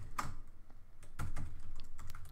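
Fingers tap a computer keyboard in short bursts of keystrokes, some spaced, some in quick runs, close and fairly loud with no talking.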